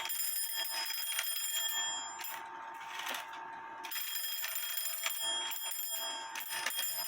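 Ratcheting mechanism of an antique 1830 Black Forest shield clock being wound, a dense run of fast metallic clicks and ringing bell-like tones, close and steady with brief pauses, no voices.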